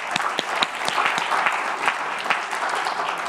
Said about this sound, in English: let's give all our guests a round of applause